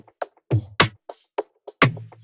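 Sharp rim shot clicks within an FL Studio Afro fusion drum pattern, a handful of dry, snappy hits spaced irregularly alongside deeper thumps, loud and close with no talking.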